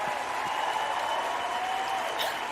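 Audience applause at a talk event, a steady, moderately quiet spread of clapping with a faint hum beneath it and no break.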